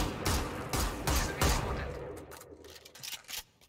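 Scattered gunfire from enemies shooting at the player in a tactical shooter match, several bursts of shots over a few seconds with clattering thumps, fairly loud and close.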